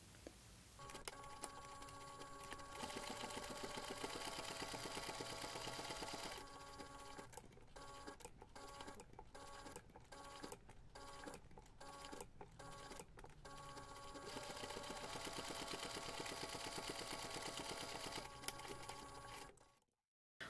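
A sewing machine stitches a toiletry pouch, its needle running in a quiet steady whir broken into short rhythmic bursts of stitching midway, faint and alone.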